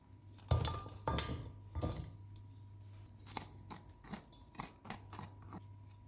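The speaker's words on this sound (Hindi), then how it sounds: "चिकन को वापस कढ़ाई में डालेंगे" Chicken going back into a karahi, heard as several clattering metal clinks and scrapes of utensils against the pan, louder at first and then lighter taps, over a steady low hum; no speech.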